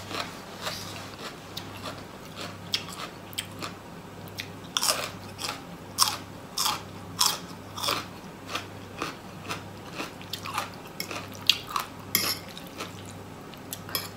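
Crunchy beans eaten alongside green curry with rice noodles, giving a steady run of sharp, close crisp bites and chewing crunches in an irregular rhythm over roughly fourteen seconds, with no talking.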